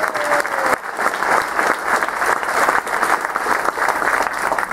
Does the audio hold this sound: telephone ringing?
no